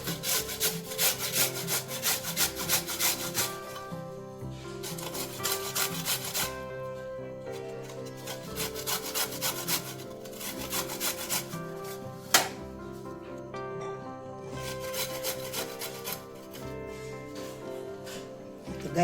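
A carrot is grated by hand on a kitchen grater, with steady rhythmic rasping strokes in repeated bursts separated by short pauses, close and fairly loud with no talking.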